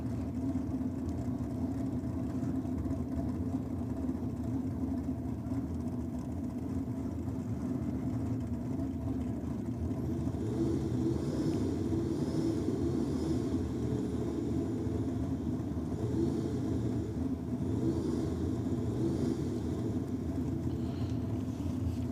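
Nitro drag racing cars rumble at low idle toward the start line, a steady, distant engine drone mixed with outdoor wind and crowd ambience.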